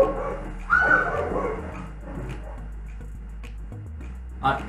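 A pet dog on a terrace gives a short yelp, then whimpers and whines on and off, fairly close, with quiet household noise between.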